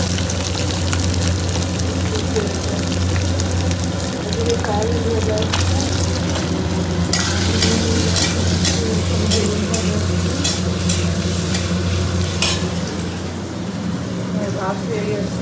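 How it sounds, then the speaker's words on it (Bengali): Soybean chunks fry in hot oil and are stirred, giving a steady broadband sizzle with scraping stir strokes throughout, close and fairly loud, with faint voices underneath. "তো এবার সয়াবিনটা ভেজে নেওয়া হচ্ছে।"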